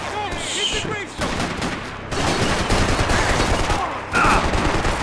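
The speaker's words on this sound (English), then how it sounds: "Shoot! Shoot till he stops moving! Pull the goddamn trigger!" Dense, loud gunfire from a Max Payne 3 firefight rolls on continuously in rapid bursts, with shouted voices mixed in over the shooting.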